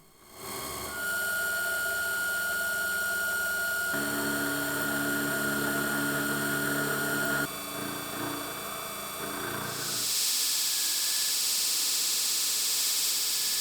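A drill bores a hole through a steel knife handguard, a loud continuous whine with shifts in pitch as the bit works through the metal, then a change to a harsher hiss near the end.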